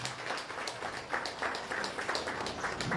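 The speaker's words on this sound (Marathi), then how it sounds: "एकदा जोरदार टाळ्या झाल्या पाहिजे" Audience applause fills a ceremony hall at a women's organisation installation and felicitation event in Barshi, steady, dense clapping from a sizeable crowd, moderately loud and sustained throughout.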